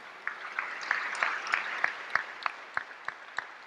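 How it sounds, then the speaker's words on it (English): An audience at a Nation of Islam gathering claps faintly and in an even rhythm, a sparse, distant-sounding round of applause with no talking over it. "And give yourselves a warm round of applause."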